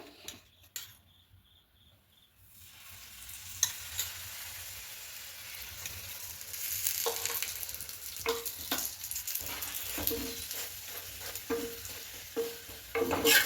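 A paratha sizzles in oil on an iron griddle, with a soft steady frying hiss that swells after a quiet start, punctuated by light scraping and stirring clicks.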